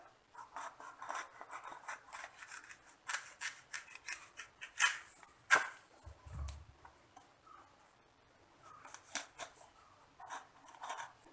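Knife cutting the ends off a snake gourd and slitting it lengthwise in a home kitchen, heard as a series of faint, close scraping and snicking cuts with a few sharper taps and a brief low thump near the middle, no talking.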